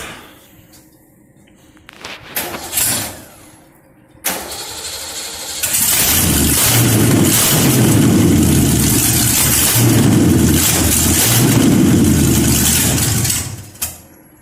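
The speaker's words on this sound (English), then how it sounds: "since the exhaust is off, we're going to start it" A 1985 Ford Mustang GT with its exhaust removed cranks over, catches and roars to life, then runs as a loud, raw, rumbling engine for several seconds before shutting off abruptly.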